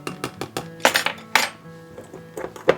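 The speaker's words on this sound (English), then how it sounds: "And then we just throw the lid on" A lid clinks onto a container of spices, including hot paprika, for homemade breakfast sausage seasoning, followed by several sharp rattling knocks and clinks as it is handled and shaken.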